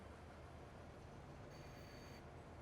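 A Farming Simulator 25 train rolls past as a steady, faint rumble of rail wheels with a thin high squeal partway through, with no talking.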